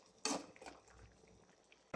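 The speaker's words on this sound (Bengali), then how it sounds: "মাছগুলো ঝোলের সাথে একটু মিশিয়ে দিব" A utensil scraping and clinking against a pan while fried poa fish are stirred into a tomato and potato curry, two sharp metallic knocks framing a soft, quiet stirring rustle.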